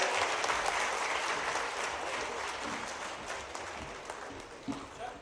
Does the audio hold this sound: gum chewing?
no